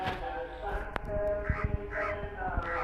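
Several crows caw from trees nearby, a cluster of harsh, rasping calls in quick succession over a constant background hum of the outdoor setting.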